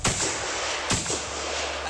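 Two heavy blasts from a rifle on a period-drama film set, each a loud booming crack trailing off into a rumbling echo, close and without talk.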